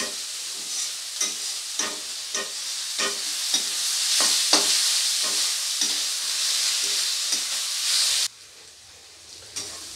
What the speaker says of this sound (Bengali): তো দেখুন পেঁয়াজটা হালকা লাল করে ভেজে নিয়েছি